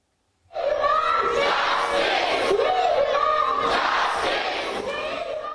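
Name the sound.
protest crowd in city streets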